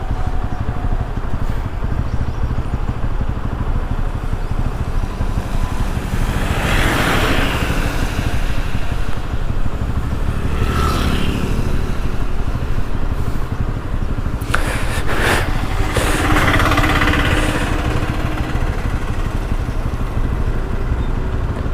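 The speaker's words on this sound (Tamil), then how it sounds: "மூணாருக்குள்ளே இவ்வளோ டிராஃபிக் இருக்குன்னு நான் எதிர்பார்க்கவே இல்லை." Steady traffic on a road in Munnar during monsoon rain, heard while riding a Bajaj Pulsar NS200 motorcycle, with a constant engine drone and wind rush and passing vehicles swelling briefly nearby.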